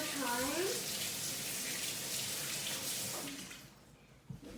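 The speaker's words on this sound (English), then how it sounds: "rinse my hands off one more time" Hands rinsed under a running kitchen tap while cooking, a broad steady rush of water for about three seconds that cuts off, leaving a quiet tail with a small knock near the end; a voice is heard briefly at the start.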